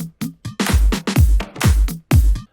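Deep, booming kick drum thumps land in a remix groove alongside sharp percussive hits, loud and punchy with short gaps between the beats.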